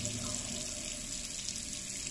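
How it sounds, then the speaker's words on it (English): Water pours from a geyser tap at full pressure after an air lock was cleared, a steady close rushing hiss with no pauses. "You can see the water flow should have restored."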